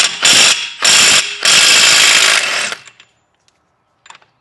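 A stubby cordless power tool removes a fastener on a widebody FRS, with three loud close bursts of whirring and ratcheting, the last one longest, followed by faint clicks and near silence.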